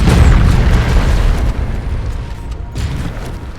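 A walker is destroyed in an explosion in Warhammer 40,000: Dawn of War II, giving a heavy, close boom that rumbles on and fades slowly, with faint mechanical clatter underneath.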